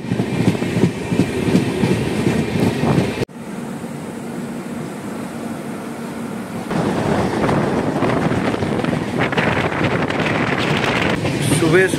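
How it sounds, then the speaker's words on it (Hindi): An Indian express train, the Tinsukia–Bengaluru service via Dibrugarh, rolls along the rails in a steady loud rumble with a brief drop in level midway, then continues with rattling and rushing noise around the carriage. "छोड़ दिया है अभी ट्रेन।"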